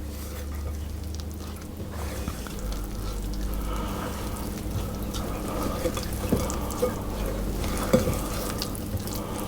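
Flour is stirred into Swedish pepparkakor ginger snap dough in a bowl, giving a steady, close scraping and mixing sound over a low background rumble, with a few louder knocks near the end.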